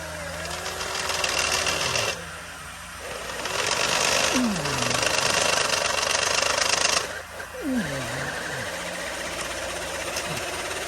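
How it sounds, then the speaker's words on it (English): A drill bores into a BMW's aluminum oil pan at a stripped drain plug opening, whining loud and close in bursts that stop and restart, the pitch sagging as the bit bites. "as we're drilling, no metal was going in the pan"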